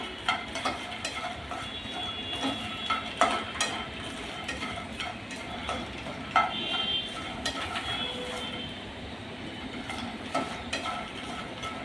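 Makhana fox nuts roast in ghee in a pan, stirred with a utensil that gives repeated light knocks and scrapes over a soft, low sizzle, close by and fairly quiet.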